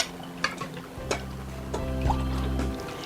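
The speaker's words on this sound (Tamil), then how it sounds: "நம்ம தண்ணி ஊற்றிக்கிறேன்." Water poured from a container into a cup or pan while making a homemade rose-essence Bandung drink, a steady close filling splash lasting a couple of seconds after a few light clinks.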